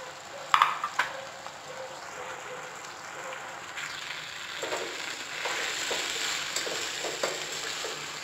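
Mushrooms fry in a pan with tomato masala for a roadside-style kaalan dish, giving a steady close sizzle and crackle with a few scrapes and clinks from stirring.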